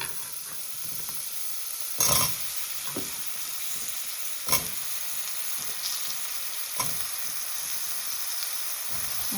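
Cubed bottle gourd fries in a pan of hot oil with cumin and fenugreek seeds, giving a steady, close sizzle broken by a few sharp clatters of stirring, with no voices.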